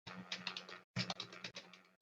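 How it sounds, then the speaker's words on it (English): Quick, light keystrokes on a computer keyboard as a business name is entered, coming in short irregular clusters with a brief pause partway through, close and quiet. "typing that in"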